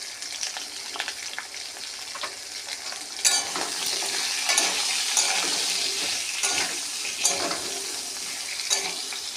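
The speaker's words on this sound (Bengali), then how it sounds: "আলু কুমড়ো ভাজার সময় অল্প পরিমাণে একটু হলুদ দিয়ে দিতে হবে।" Potato and pumpkin pieces with a little turmeric fry in a pan with a steady, lively sizzle, punctuated by repeated scraping stirs against the pan, with no speech.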